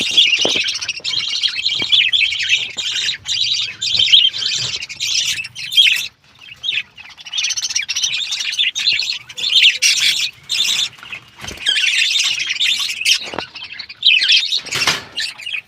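Birds in a backyard colony chirp and squawk while feeding, a dense, busy flurry of close, high tweets and sharp calls running almost continuously with brief gaps.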